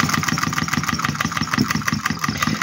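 A small oil-free model Stirling engine runs nearby with a fast, steady chugging rhythm, its rapid mechanical beats continuing evenly throughout.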